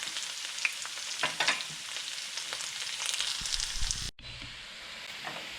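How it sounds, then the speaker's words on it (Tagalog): Garlic frying in a pan until golden brown for Filipino bopis gives off a steady, close crackling sizzle with bursts of stirring, then cuts abruptly to a quieter sizzle. "Tapos susunod natin yung bawang. Kailangan maging golden brown."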